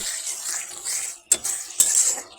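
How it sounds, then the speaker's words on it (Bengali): Rui fish pieces dropped into a pan of cooked-down tomato and oil, a hissing sizzle punctuated by two sharp splattering bursts as the fish hits the hot oil, close and clear. "আমি এখন মাছটা দিয়ে দেব।"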